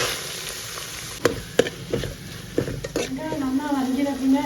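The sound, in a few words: onions frying with ginger and garlic in oil in a pressure cooker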